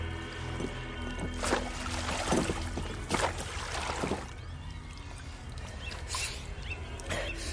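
Oars splash and knock as a rowing boat moves across a lake in a radio drama, with watery gurgles and soft thumps over a steady low background hum, heard at close range.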